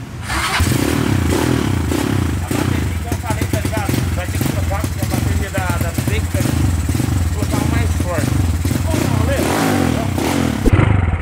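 A modified Honda Today moped engine revs and roars loudly and continuously, with rattling clatter and rising and falling throttle bursts close to the listener, while a voice talks over it.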